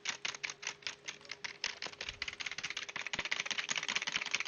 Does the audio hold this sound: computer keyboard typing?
yes